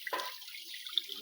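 Tap water runs steadily while someone washes, a soft continuous hiss with a brief splashy burst near the start. No voices.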